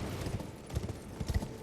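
Horse hooves clip-clopping on the ground in Elden Ring, a steady rhythmic series of soft thuds at moderate distance, fairly quiet, with no voices.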